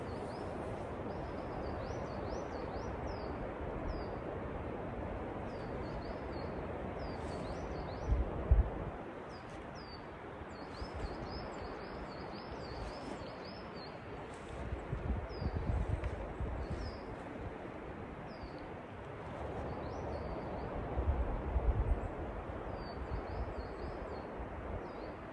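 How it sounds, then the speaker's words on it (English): Faint bird calls and chirps outdoors on a very windy day, scattered through the whole stretch over steady wind rumble and occasional gusty buffeting, with no voices. "Can you hear the birds?"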